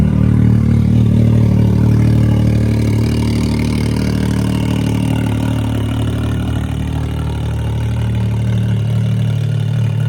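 A Can-Am X3 side-by-side idles with its exhaust cutout open, giving a loud, steady, deep engine rumble with a low throbbing drone, close by and without talk.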